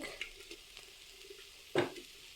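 Cooked rice scooped from a serving spoon into a hot pan for frying, a quiet soft scrape and patter followed by one louder clattering drop near the end, with a faint sizzle beneath.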